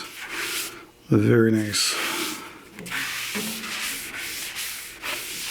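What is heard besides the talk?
wiping denatured alcohol onto turned wood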